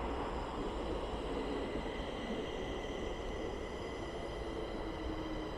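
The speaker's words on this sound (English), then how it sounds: "today we are at Kristineberg metro station here on the Green Line in Stockholm" A Green Line metro train at Kristineberg station in Stockholm produces a steady, continuous rumble and rolling roar, with a faint higher whine holding evenly throughout.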